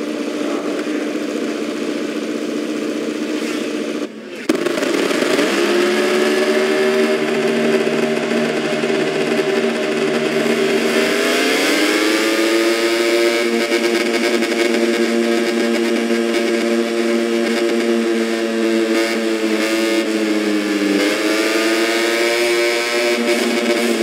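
A MotoGP racing bike engine in the MotoGP 24 game, loud and steady, holding a buzzing idle-like drone with a brief cut near the start, then climbing and settling in pitch a couple of times as the revs rise, with no talk.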